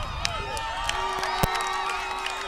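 A wrestling crowd at a UKPW match cheers and whoops steadily, with scattered claps and shouts standing out from a dense, continuous roar.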